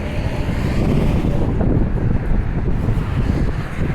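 Strong wind buffets the microphone with a constant, loud roaring rumble for the whole stretch, no other sounds clear above it.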